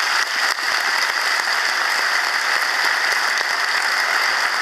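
A large crowd at an Irish citizenship ceremony in Dublin applauds the presiding judge, a dense, loud, continuous roar of clapping with no distinct individual claps or voices.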